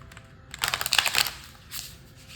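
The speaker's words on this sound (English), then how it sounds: "let's just shuffle this card next" A quick riffle of cards being shuffled, a rapid papery flutter, followed by a shorter second shuffle, close and moderately quiet.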